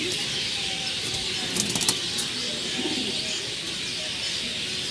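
Pet pigeons of the Gola line coo in a loft, soft repeated calls over steady background hiss, with a few brief chirps and wing sounds mid-way.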